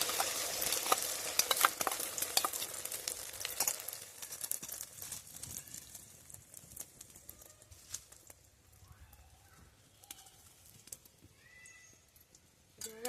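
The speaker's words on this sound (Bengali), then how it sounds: "এর মধ্যে এই ডিমটা দিয়ে দিচ্ছি ফেটানো ডিমটা" Beaten egg poured into a lightly heated pan for a spring onion egg bhurji, giving a soft sizzle and occasional spatula scrapes that grow fainter and sparser as it cooks.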